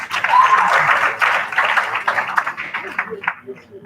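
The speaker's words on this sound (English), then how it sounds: "Round of applause for him too." Applause from an audience at a BBIfe 2021 event, sustained clapping for about two and a half seconds that thins out and fades, with voices emerging near the end.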